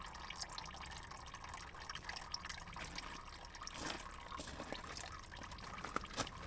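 Engine oil drains from a Kubota KX040-4 mini excavator in a steady, faint trickle, with scattered drips and small splashes running throughout.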